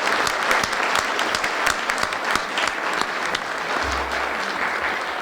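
An audience at a President's Leadership Awards ceremony claps steadily and warmly from start to finish, with dense, even applause and no pauses.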